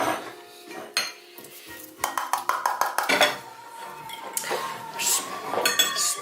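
A bowl and cutlery clink and clatter while Heinz spaghetti with sausages is served. Sharp chinks and scraping stirs come in irregular bursts, close and fairly loud.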